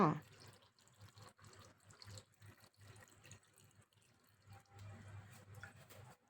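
Pickling brine poured over bean sprouts, heard as a faint, soft trickle and splash of liquid with scattered drips and light clinks, quiet and close.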